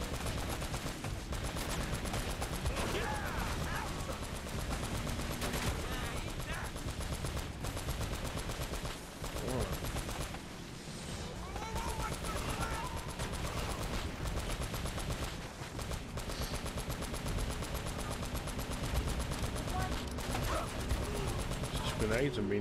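Rapid machine-gun bursts and gunshot volleys from an Uncharted level played on Crushing difficulty, with grenade blasts mixed in. The firing is loud and nearly nonstop, a voice talks over it at times, and there are short lulls.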